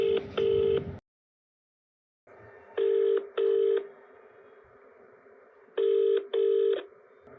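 Telephone dialing for a call: paired keypad tones beep in short pairs, separated by a silent gap, over a steady line hum, sounding close and clean.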